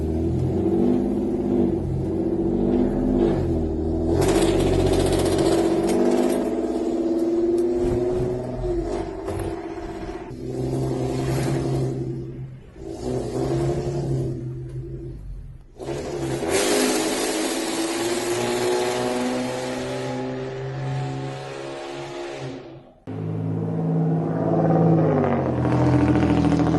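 A loud car engine revs and accelerates along a residential Alabama street, with long roaring bursts that swell and fade and a few brief pauses between passes.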